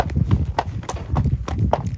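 A horse's hooves clip-clop steadily on a village road in Cartmel during a hack, a brisk, even rhythm of close, sharp strikes over low background rumble.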